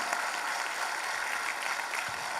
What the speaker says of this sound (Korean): 격려의 박수 한번 부탁드리겠습니다